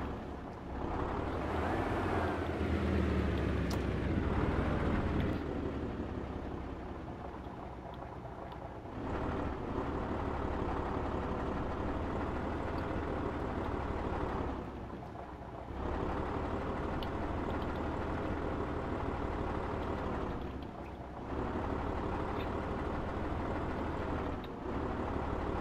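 A truck engine in a video game drones and strains as it begins to fail, a loud, steady rumble with a few brief dips, mixed with wind-like noise and no talking.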